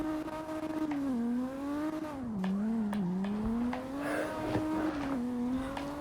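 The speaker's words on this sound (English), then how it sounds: "I'll see if there's a spot where I could do some gutter drifting." Video game car drifting in CarX Drift Racing, a steady engine drone rising and falling with throttle under a wavering tire squeal, continuous and up close for several seconds with no talking.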